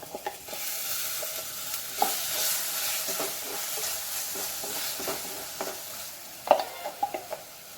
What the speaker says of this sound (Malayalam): ഇതിലേക്ക് നമുക്ക് അരച്ച് വെച്ചിരിക്കുന്ന അരപ്പ് ഒഴിച്ചു കൊടുക്കാം